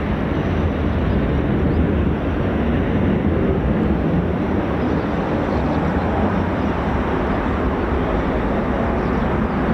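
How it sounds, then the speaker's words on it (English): A US Air Force MC-130J Commando II turboprop at RAF Mildenhall gives a steady, loud, broadband engine roar that holds without a break for the whole stretch, with no talk over it. "Mc-130J Commando 2 starting things off"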